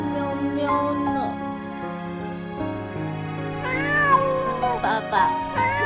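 A cartoon cat meows several times in a row, with drawn-out, rising and falling cries that come loud and close.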